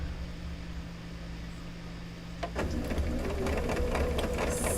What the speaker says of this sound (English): So moving forward into my project as we're sewing it up, I am going to go ahead and just chain piece